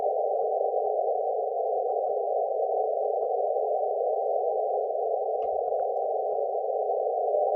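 Amateur radio CW signal during a contest, a steady loud continuous tone holding unbroken throughout with faint clicks and background crackle.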